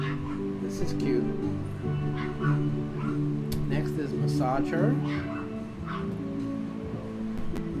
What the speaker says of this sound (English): Excuse the neighborhood dog. He wants to bark.